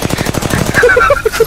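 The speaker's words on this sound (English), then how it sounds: "What was that shot?" A rapid burst of gunfire in the video game Apex Legends, loud and close, rattling off several quick shots in the first part before fading into short game tones.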